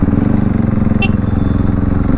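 A motorcycle rides along with a loud, close, pulsing engine drone and a brief sharp clink midway, while a rider talks over it.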